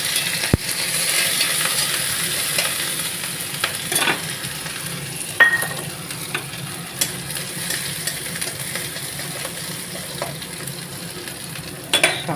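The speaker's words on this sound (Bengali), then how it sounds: "তেল গরম হয়ে গেছে, একটু কালো জিরে দিয়ে দিলাম আর রসুন আর লঙ্কা।" Garlic, green chilli and nigella seeds fry in a small amount of hot mustard oil, a soft continuous sizzle with occasional utensil taps and stirring clinks, no talking.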